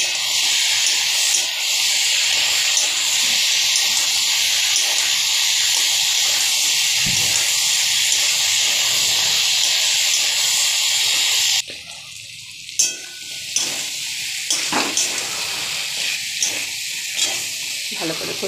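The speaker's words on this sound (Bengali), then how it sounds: "বাটা মশলাটাও দিয়ে দিলাম, একটু ভালো করে কষিয়ে নেব।" Ground spice paste frying in a pan, a loud continuous hiss that shifts partway into a quieter, uneven sputter with scattered soft knocks.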